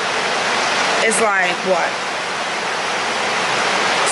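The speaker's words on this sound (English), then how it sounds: "7:54 right now, and it's pouring. Like it is pouring." Heavy rain pours outside in a steady, loud, unbroken hiss, with a brief voice speaking over it near the start.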